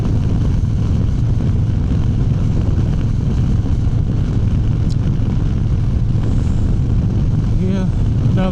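Steady, loud engine drone of a motorcycle under way at constant speed, mixed with heavy wind rush, and someone talking over it.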